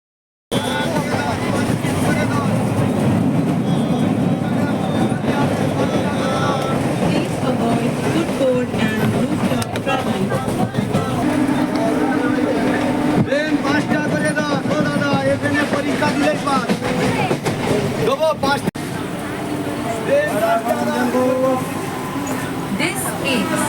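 Rumbling interior of a moving local train from Kolkata bound for Kharagpur, a steady broadband roar with wind buffeting and occasional clanks, heard close and continuous beneath ongoing background chatter.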